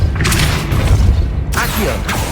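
Depulso spell in Hogwarts Legacy, heard as heavy magical whooshing booms and thuds during combat, loud and close, with a couple of distinct bursts.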